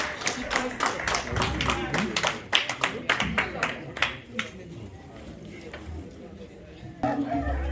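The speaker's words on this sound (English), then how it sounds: "Round of applause, yeah." A room of guests at a New Year party held by a Nigerian community association claps, loud scattered hand claps that are fairly close and irregular. The clapping thins out toward the end while people talk over it.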